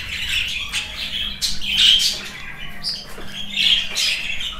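Budgerigars in an indoor breeding room give repeated harsh, raspy squawks and chatter close by, clustered bursts rising and falling over a low background hum.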